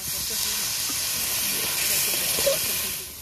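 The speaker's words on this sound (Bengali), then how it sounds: "পরিমাণ মতো লবণ, একটু জল দিয়ে দেবো" Water poured into a hot pan of spiced duck masala gives a steady, loud steam hiss that fills the whole moment, with a brief crackle near the end.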